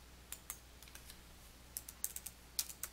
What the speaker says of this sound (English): To link to a web page, type its URL into the Address field.